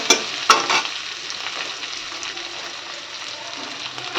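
Shrimp cook in a pan with a little water, a strong close sizzle that opens with a couple of sharp scraping bursts, then settles into a steady hiss.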